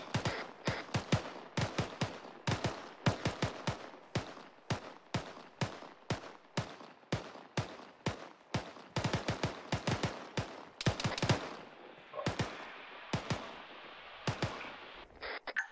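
Sustained covering gunfire in the Arma military game during skill training, with rapid sharp shots in uneven bursts over nearly sixteen seconds, close and loud, thinning out toward the end.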